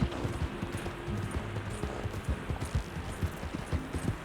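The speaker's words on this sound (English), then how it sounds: "Peaceful experience actually, riding a horse in the game." Horse hooves on a ride in Red Dead Redemption 2, a steady, continuous clip-clop at a canter over a dense bed of ambient noise, close and moderately loud.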